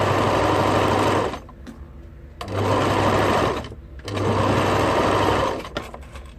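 Sewing machine stitching zipper pieces together for a zipper accordion, running in three loud bursts of steady whirring with short pauses between.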